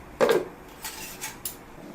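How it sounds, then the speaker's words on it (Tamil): Used pots, dishes and metal utensils clatter as they are washed in a sink: one louder clank followed by a few lighter knocks, close by and without speech. "நான் வந்து இப்போ யூஸ் பண்ண பாத்திரத்தெல்லாம் தேய்ச்சிடுவேன்"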